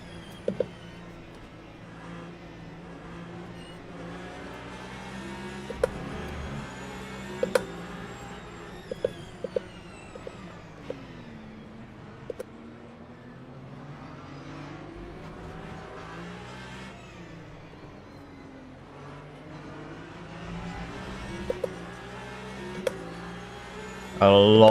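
A hypercar in the racing game Le Mans Ultimate drones along with a continuous engine note that rises and falls through gear changes, with brief clicks and knocks, while someone talks over it.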